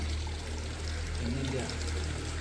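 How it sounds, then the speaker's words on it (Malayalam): Pond water being scooped up and poured back out, a steady splashing pour close to the microphone over a low background hum, with no pauses. "കുറച്ച് വെള്ളം കോരി ഒഴിക്കുന്ന."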